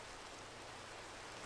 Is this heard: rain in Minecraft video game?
yes